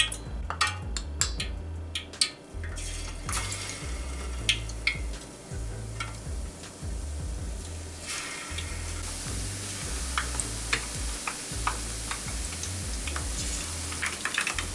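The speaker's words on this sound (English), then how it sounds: "Now the oil is hot, and I'm going to start putting my chicken in." Pieces of chicken for bhajias sizzling and crackling in hot oil, a steady frying hiss with scattered pops and light clinks throughout.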